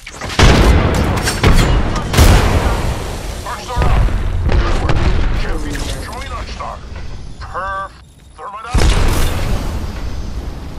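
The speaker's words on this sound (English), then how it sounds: "Frag out. Grenade out." Grenades explode in the battle royale game Apex Legends, several loud booms and bursts mixed with gunfire, while players talk and call out over the action.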